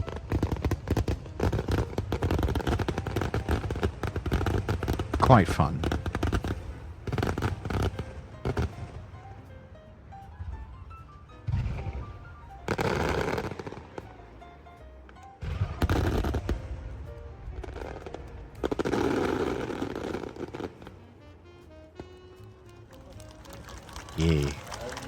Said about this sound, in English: you can tell this is a very elegant fireworks display